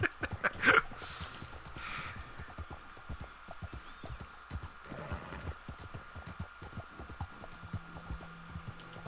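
Horse hooves in the video game Red Dead Online clip-clop in a steady rhythmic stream of soft thuds, with a faint low hum underneath and no voices.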